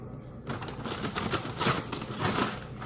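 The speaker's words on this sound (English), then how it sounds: "Scissors don't work well at all." Close, crisp snipping and crinkling as scissors work through a plastic sauce packet, irregular cuts and rustles continuing for a few seconds without talk.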